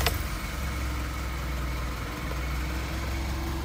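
An automatic-transmission car engine catches with a brief start at the beginning, then settles into a steady, moderately loud idle that hums on evenly.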